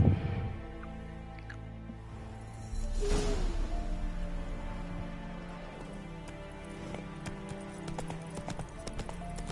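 In The Witcher 3, the horse Roach trots with a steady clip-clop of hooves at a moderate pace, close and clear against quiet game ambience, without speech.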